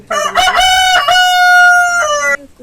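A rooster crows loudly and close, one long drawn-out cock-a-doodle-doo with a sustained middle note, then silence, at a small backyard poultry unit of about 25 hens.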